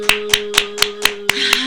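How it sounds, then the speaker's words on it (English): Seven sharp hand claps land at a steady, evenly spaced rhythm, close and distinct against a faint constant hum. "Let me clap to that."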